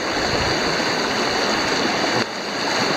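Fast-moving cold stream water on Pennsylvania's Mid State Trail rushes loudly and continuously up close, a dense, steady splashing roar with no voices.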